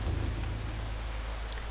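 Steady rain and a low rumble of thunder in the video game Eternal Darkness, a constant dense wash with deep rolling energy, alone with no voices.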